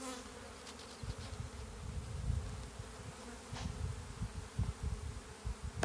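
Honey bees buzzing around an open hive frame during hive inspection, a steady close droning hum with individual bees passing near, punctuated by soft handling knocks and no speech.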